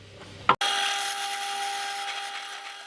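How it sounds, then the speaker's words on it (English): A power drill bores out an M10 bolt. A short scrape comes first, and then the drill runs at a steady whine, close and fairly loud, until the end. "so I physically need to drill that out"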